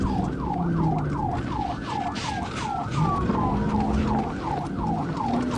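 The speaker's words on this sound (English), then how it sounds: "Okay, so we can hear we've got at least 2 police cars in the chase now." Sirens from at least two police cars in a chase wail in a steady, repeating rise-and-fall cycle, with a second, slower-gliding tone layered over the first. Loud and close, with traffic rumble underneath and no talking.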